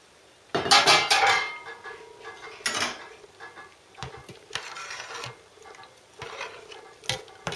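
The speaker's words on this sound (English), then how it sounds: "And I'm going to dish it out." A ladle clinks and scrapes against a pot and bowl while creamy avgolemono egg and lemon soup with chicken is dished out; a sharp clatter opens, followed by scattered lighter knocks and taps.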